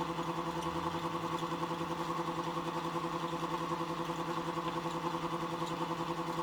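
A Muller motor-generator hums steadily with a constant mechanical whirr and even tonal drone, running alone at a fixed speed without pause.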